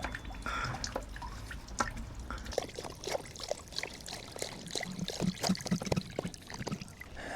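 Old coolant drains from a Kawasaki Z900 motorcycle, falling in a quick, irregular series of close drips and small splashes into a catch container, with a faint trickle underneath.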